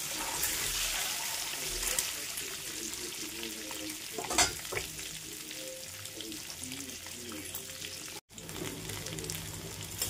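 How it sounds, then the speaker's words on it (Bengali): Turmeric- and salt-coated eggs crackle and sizzle in hot oil in a pan for egg korma, a continuous close frying hiss with occasional louder pops and spatters throughout. "দেখো ডিমটা লাল লাল করে ভাজা হয়ে গেছে"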